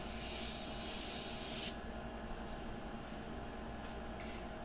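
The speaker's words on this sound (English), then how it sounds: "Just making sure that my airbrush is working correctly." An airbrush loaded with India ink sprays a steady, close, soft hiss that drops to a quieter hiss partway through and carries on without a break.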